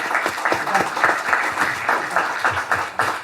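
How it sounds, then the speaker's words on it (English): Audience applause for a team at a conference event on India's AI strategy, a steady wash of many hands clapping close by, continuous for a few seconds with slight rises and dips. "Big applause for Team NatStrat and everybody there."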